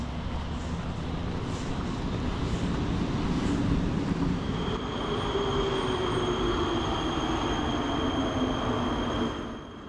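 A Prague metro train rolls along the rails in a steady, loud rumble. Its wheels squeal in long drawn tones as it runs, with no talk heard.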